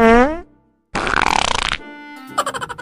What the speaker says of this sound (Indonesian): Udah denger tadi Bapak yang terkentut-kentut